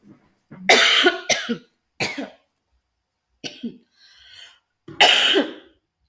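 A woman teacher in a classroom coughs several times in separate harsh bursts, with short pauses and a brief throat-clearing between them.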